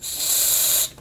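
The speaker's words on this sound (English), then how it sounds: "We'll just spray some F5 in there. Actually, no, we'll do contact cleaner first." Contact cleaner spraying into a balance control: one loud, steady aerosol hiss that lasts just under a second and then cuts off sharply, with no voices.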